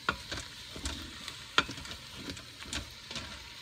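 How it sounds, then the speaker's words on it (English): A spoon stirs pumpkin chili with undrained fire-roasted tomatoes in an Instant Pot, giving repeated close scrapes and clinks against the pot over a faint bubbling hiss. "I'm going to give it a good stir because I want this mixture to cool down and quit cooking"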